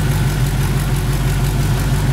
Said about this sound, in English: Motor runs great.